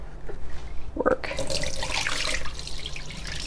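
Water drains out of an Avalon Bay Eco Spinner after washing alpaca fiber, a thin trickle that turns into a steadier splashing flow into a sink, close and fairly loud.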